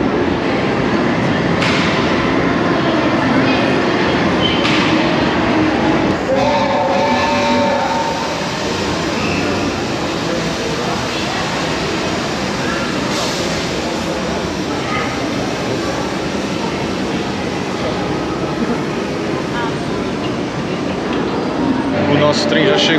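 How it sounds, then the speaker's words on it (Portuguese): Train rolling into a themed station at Universal Studios Orlando, a steady loud rumble with rail clatter throughout, people talking over it. "Nosso trem já chegou, já estamos aqui, ó, esperando, na boquinha da garrafa."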